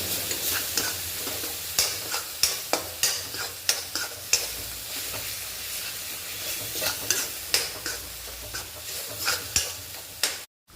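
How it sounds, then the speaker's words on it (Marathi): Red chili powder is stirred and sautéed in a pan for a dhaba-style egg curry: a steady sizzle with a brisk, regular run of close spoon scrapes and taps against the pan. "तर हे लाल तिखट व्यवस्थित परतून घ्यायचं"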